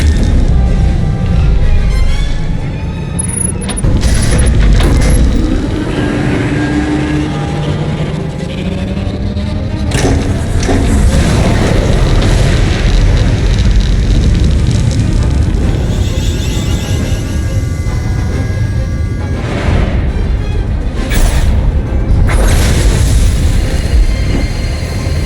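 Silencer superweapon firing in a Star Wars: The Old Republic cutscene, a loud sustained rumbling roar with repeated sharp bursts and rushing, metallic textures layered over it.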